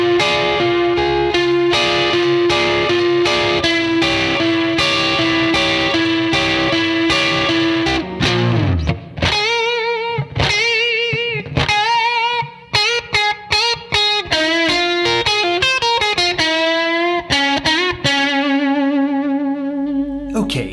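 An electric guitar with distortion and chorus effects plays a riff, moving from sustained, ringing chords into quick, choppy bent and slid notes, loud and up front throughout.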